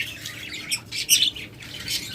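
Pet breeding-pair birds squawk in short, shrill bursts, a few harsh calls close together with no talking.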